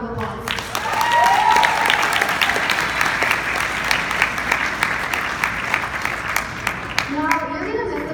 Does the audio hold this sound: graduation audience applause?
yes